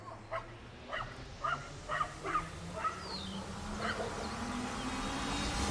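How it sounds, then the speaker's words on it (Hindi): Several dogs barking in the early morning, outdoors, with scattered yips and short barks at a distance over steady background noise and a passing engine hum. "पर 4 और कुत्ते आ गए।"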